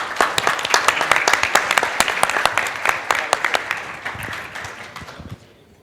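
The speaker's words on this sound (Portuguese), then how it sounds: "uma salva de palmas para vocês" Applause from a trade-show audience of auto repair workshop professionals, with distinct claps in a lively rhythm that gradually thins and fades toward the end.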